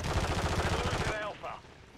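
Rapid automatic gunfire in a multiplayer shooter game, a dense rattling burst lasting about a second that then cuts off, followed by a brief softer sound.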